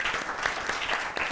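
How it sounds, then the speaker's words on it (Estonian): A short burst of studio audience applause during a comedy show round, a steady crackle of many hands clapping at moderate loudness with no talk over it. "aga daamid ja härrad, pärast seda raundi palun teeme suure aplausi nii motopededele kui ka Ninale ja Turnerile"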